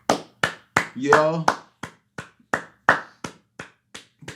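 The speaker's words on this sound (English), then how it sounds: "I'm the only one clapping" A single person clapping hands, sharp separate claps in an uneven rhythm, close and distinct, with a short burst of speech partway through.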